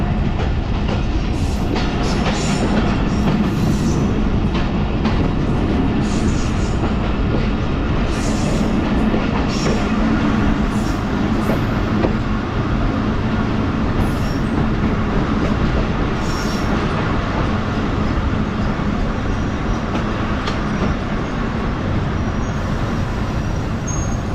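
Steady loud rumble of a train rolling on rails as it arrives at Muzaffargarh railway station, Pakistan, with wheels squealing and clanking as it slows, continuous throughout.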